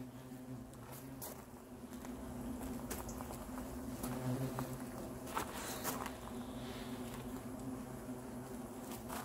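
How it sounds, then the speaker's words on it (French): European hornets fly in numbers around a small nest under a boarded-up window, making a steady, close insect buzz that persists throughout, with scattered faint knocks. "C'est un petit nid, mais il y en a pas mal qui volent."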